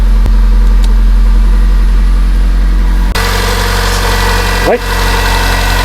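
A Mitsubishi Lancer engine with a recently repaired valve cover oil leak idles steadily and close by, a constant low hum with faint knocking vibration, briefly shifting as it settles; a voice speaks a single word.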